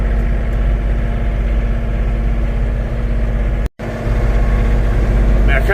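A John Deere tractor engine idles steadily with a low, constant rumble throughout, briefly cutting out for a moment before resuming at the same level.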